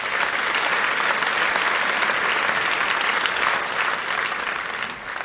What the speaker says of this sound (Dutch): Mag ik van u een applaus voor de mensen die ik hier aan tafel heb gehad?